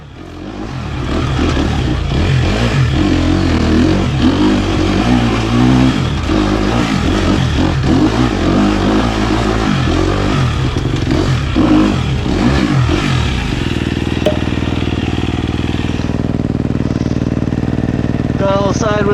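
Dirt bike with old tires climbing a hill, its engine revving and roaring loudly up close with fluctuating pitch and rattling clatter, then settling to a steadier drone.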